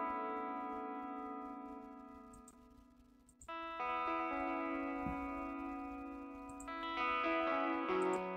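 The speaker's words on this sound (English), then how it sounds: "that's a fender clean. All I've added on this is the delay and the reverb" Sustained clean electric guitar chords through a Fender clean tone ring out with delay and reverb trails, shifting to a new chord partway through and swelling again near the end.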